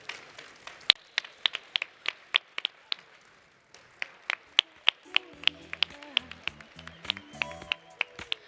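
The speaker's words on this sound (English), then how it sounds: "please a big round of applause for all those teams" Clapping for the teams at a closing ceremony: sharp, evenly spaced claps in a steady rhythm, fairly thin rather than a dense crowd, pausing briefly midway, with soft tones that sound like a harp joining near the end.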